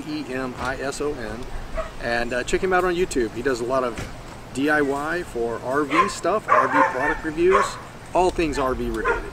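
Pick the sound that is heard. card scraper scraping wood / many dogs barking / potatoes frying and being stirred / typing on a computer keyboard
many dogs barking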